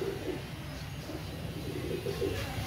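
Heera Laal pigeons coo softly in a few low, murmuring calls over a steady background hum, fairly faint and without talk.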